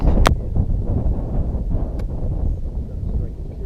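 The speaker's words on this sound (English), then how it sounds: "And we got a 20-mile-an-hour wind." Steady wind buffeting a microphone on an open golf course in a roughly 20 mph breeze, a loud continuous low rumble with a couple of brief sharp clicks early on.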